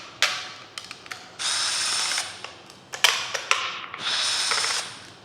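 Bursts of ratcheting clicks from a hand ratchet backing Torx bolts out of an engine oil pump, in close, uneven spurts with brief pauses between them.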